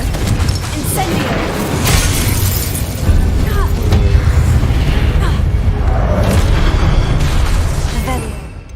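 Confringo and Incendio spell blasts in Hogwarts Legacy, loud booming bursts and crackling impacts layered over continuous game noise, with a voice speaking over them.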